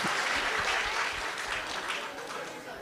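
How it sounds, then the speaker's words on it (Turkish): Applause rolls through a crowd at a commemoration ceremony, a dense, steady clatter of many hands clapping at a moderate distance that fades slightly toward the end. "Alkış, alkış."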